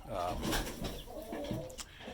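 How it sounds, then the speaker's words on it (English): Meat chickens, mostly white broiler birds, cluck and murmur close by in a short burst of overlapping fowl noises, with a voice speaking over them. "These are our meat birds. We have 17 chickens"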